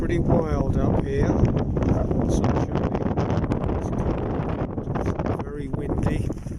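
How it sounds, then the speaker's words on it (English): Strong wind on open Farndale Moor buffets the microphone in a constant loud roar with gusty rumbles, while a person talks through it. "It's very windy."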